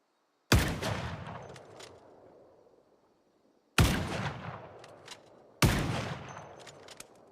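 Three separate heavy gunshots in a video game, each a sharp loud blast with a long rumbling decay, spaced a few seconds apart with no talking.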